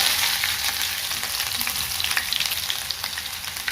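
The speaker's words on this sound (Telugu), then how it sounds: "కొంచెం ఆవాలు, కొంచెం జీలకర్ర, కొంచెం మిరపకాయలు వేసినాక మనము కొంచెం ఇది అల్లం వేసుకోవాలి." Mustard seeds, cumin, chillies and ginger fry in hot oil for a tamarind curry, a close, steady sizzle with light popping and crackling that stays loud from start to finish.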